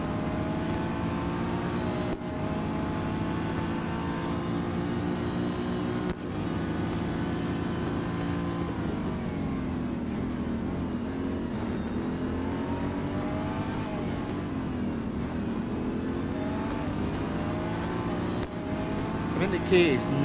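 Race cars in the video game Real Racing 3, a steady loud engine whine with rising and falling revs and shifting pitch as the cars accelerate, continuous for the whole stretch.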